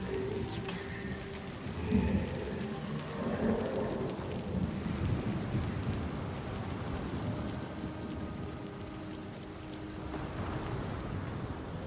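A steady wash of heavy rain with low rumbling thunder rolling underneath, continuous and full throughout, with no voices, from the video game Hellblade.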